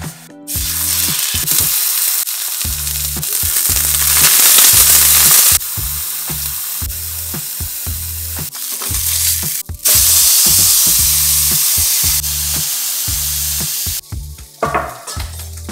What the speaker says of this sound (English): We're just gonna pan fry this sucker.